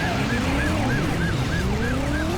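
Police car siren in the PS1 game Driver wails in a fast repeating up-down cycle over a roaring car engine during a chase, loud and continuous with no talk.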